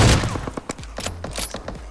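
A burst of rapid rifle shots rings out in a battle royale video game, several sharp reports in quick succession, close and loud, with no talking over them.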